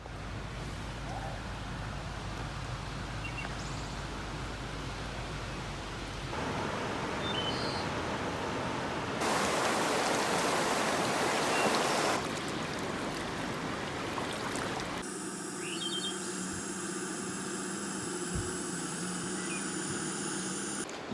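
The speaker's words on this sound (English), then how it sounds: "I love the sound of rain when I'm sleeping" Rain falls at night during a storm beside the Illinois Bayou in the Ozarks, heard as steady broadband hiss that swells louder midway, then shifts to a quieter patter with faint ambient tones.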